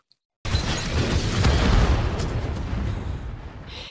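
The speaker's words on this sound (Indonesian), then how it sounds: "si Joker ikut meledak di dalam pesawat tersebut" A plane explodes in a film with an abrupt loud boom after a moment of silence, followed by a long, roaring, crackling rumble that slowly tapers off.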